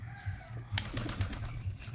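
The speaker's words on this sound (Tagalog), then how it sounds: "nagpapakain pa ako ng kalapati" A quick burst of wing flapping from pigeons lifting off, with soft low cooing and fluttering continuing around it.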